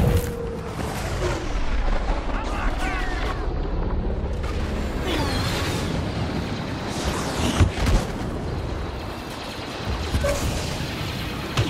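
Heavy explosions and booming blasts from an enemy bomb in the Star Wars Battlefront video game, rumbling continuously with sharp impacts amid dense battle noise and gunfire.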